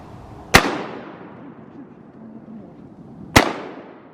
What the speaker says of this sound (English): Shoot on the water, Pete.